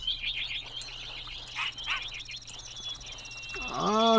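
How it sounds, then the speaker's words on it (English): Bird calls in the video game Yonder: The Cloud Catcher Chronicles, a run of bright chirps and tweets over a steady ambient hum, with a voice speaking at the end. "So many birds."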